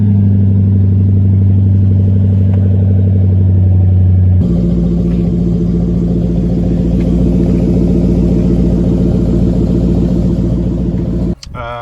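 A Jaguar F-Type SVR sports car engine runs steadily with a deep low rumble, then shifts to a busier, louder idle partway through, heard close up and alone until a brief drop at the end.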